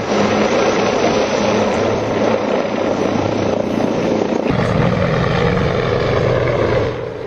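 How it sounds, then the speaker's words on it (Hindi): Helicopters flying over hilly terrain on a search operation in Kashmir, a loud, steady rotor and engine drone that holds throughout without pause, close and unbroken, with no voices over it. "हेलीकॉप्टर्स उनका सर्च ऑपरेशन कर रहे हैं पहाड़ियों में"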